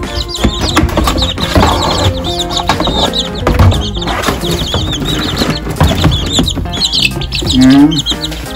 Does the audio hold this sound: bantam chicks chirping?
yes